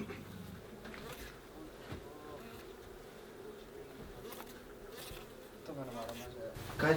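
A close, continuous drone of honey bees swarms around an open hive during an inspection in Šentrupert, Slovenia, with single bees whining past and a brief voice near the end.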